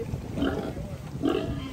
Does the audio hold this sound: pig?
yes